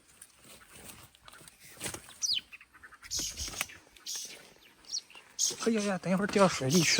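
An adult bird near a riverbank chirps anxiously over chicks fallen among rocks, giving short high calls that come and go while people talk over them.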